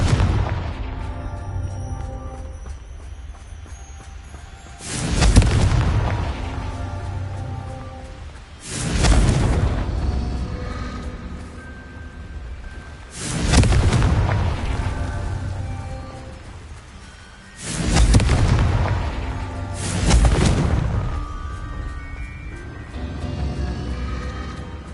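Five deep, booming explosions from the Confringo spell in a Harry Potter-style video game. Each blast hits hard and then rolls off in a long rumbling decay, spaced several seconds apart over a low ambient hum.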